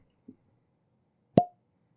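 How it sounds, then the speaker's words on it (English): A cork pops from a bottle of Old Forester Single Barrel Barrel Proof rye whiskey: one sharp, loud, close pop in otherwise quiet surroundings, preceded by a faint small knock. "pause for cork pop."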